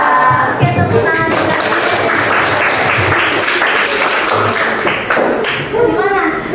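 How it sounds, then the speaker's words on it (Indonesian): A classroom of students clapping their hands: loud, sustained, dense applause that runs almost continuously, with a few brief voices mixed in near the end. "Oke, tepuk tangan."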